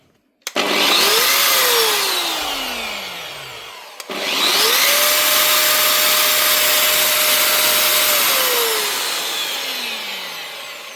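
Metabo MFE 40 wall chaser after a blade repair, started twice: a loud motor whine ramps up sharply, runs briefly and winds down, then restarts and holds at full speed several seconds before spinning down, no talk.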